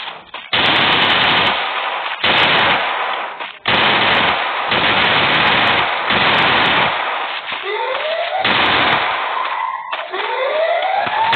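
Submachine gun fire in a video game, loud sustained bursts of rapid automatic shots in several long strings with brief pauses between, close and dominant.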